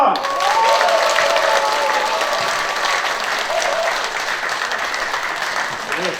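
An audience at a literary humanities symposium and new writers' award ceremony breaks into sustained applause at the opening, dense clapping filling the room for several seconds and slowly easing, with a voice briefly heard over it.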